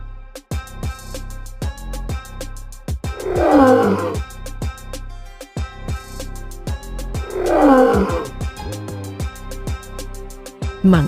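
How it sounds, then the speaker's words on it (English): A lion roars twice in two drawn-out, rumbling bursts, one near the start and one midway, each rising and then fading over a low groaning background. No one speaks. "Lion."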